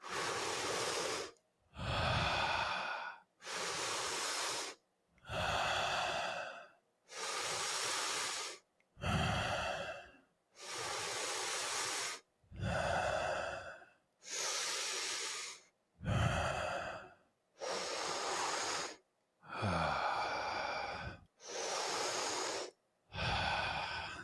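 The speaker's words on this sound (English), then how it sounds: "we'll go for 30 breaths in and out of the mouth" Deep breathing in and out through the mouth during a breathwork exercise, a steady rhythm of about a dozen loud, close breaths, each a long rush of air separated by brief pauses.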